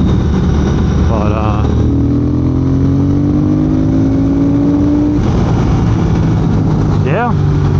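A 2022 Triumph motorcycle accelerates briskly, its engine note rising in pitch and then dropping between gears, loud and close against wind and road noise.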